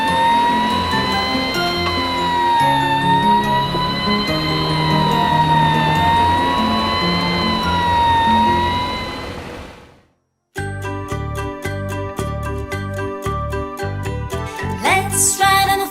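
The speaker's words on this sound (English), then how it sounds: "Fire truck." A toy fire truck siren wails in a steady, loud, wavering tone for about ten seconds, then stops; after a brief gap a different, choppier electronic tune plays.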